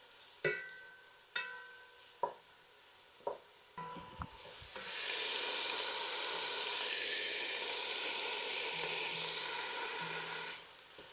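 Hamburger meat browns in a pan for chili: a few clinking stirs and scrapes, then a loud, steady sizzle of frying that holds for several seconds before cutting off, with no talk.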